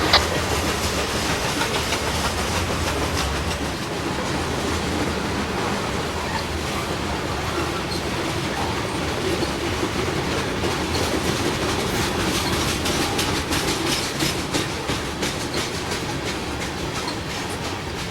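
A train rolls past in Gallitzin, Pennsylvania with loud continuous rumbling, rushing wind and steady clickety-clack of wheels over rail joints, unbroken for the whole stretch.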